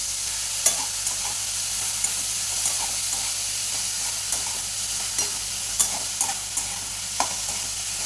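Tomatoes and salt stirred into a hot frying pan for shev bhaji: a steady, close sizzle and hiss with a spoon scraping and tapping the pan every second or so, and no voices.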